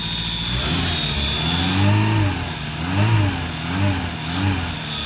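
A Renault R5 Le Car engine running on choke while its belts squeal, close steady mid-pitched running with rising and falling belt squeals in repeated waves and no talking.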